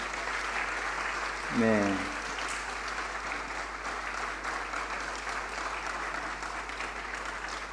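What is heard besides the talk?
congregation applauding at church ordination service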